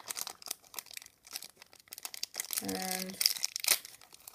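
Plastic packaging around a Dragon Ball Yura Kore trading figure by Megahouse is cut and torn open, giving close crinkling and a sharp ripping tear near the end, with brief speech at the start.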